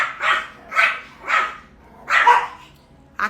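Several small dogs bark in four or five sharp, separate bursts, fairly close and loud, with short gaps between them and no talking over them.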